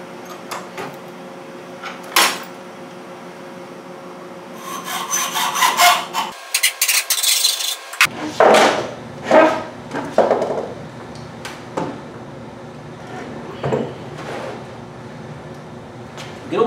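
A piece is sawn off a homemade wooden whirligig part. Scraping strokes come in irregular bursts, some close and loud, with brief pauses and clunks between them.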